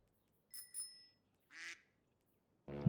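Clown Horn vehicle horn in the video game Destiny 2 gives a few short, bright honks and squeaks like a bicycle bell or duck quack, separated by pauses, ending in a louder low blast.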